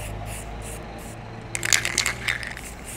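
An aerosol can sprays undercoat onto a resin 3D-printed model: a quiet low hum at first, then a series of short, sharp hissing bursts in the second half, with no voices.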